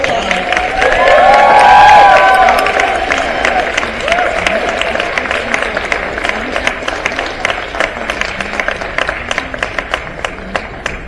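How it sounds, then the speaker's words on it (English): At a children's charity party, an audience bursts into loud applause with cheering and whistles early on. The clapping then continues in a steady, dense patter from a large crowd. "Let's give them all a round of applause."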